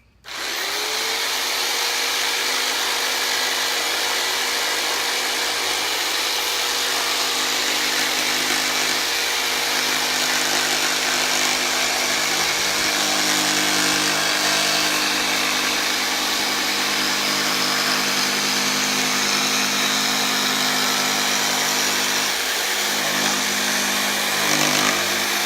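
A jigsaw cuts through wooden door hangers, its blade buzzing steadily and loudly at close range for the whole stretch, with slight shifts in pitch as the cut turns a tight corner.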